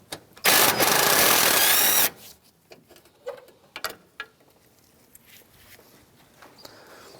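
A ratchet backs out 10mm bolts from the radiator of a 2007-2013 Mitsubishi Outlander, a loud rapid burst of ratcheting followed by scattered clicks and small metallic taps at close range.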